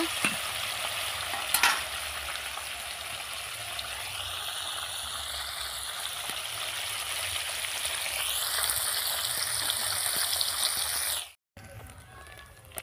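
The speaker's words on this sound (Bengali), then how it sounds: "এগুলো আমি লাল লাল করে ভেজে নেব।" Ruli fish fry in hot oil with a steady, close, dense sizzle that holds throughout, ending in a brief cut to a quieter hiss.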